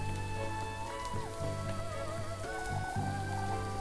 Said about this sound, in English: I can't help but worry with all this rain.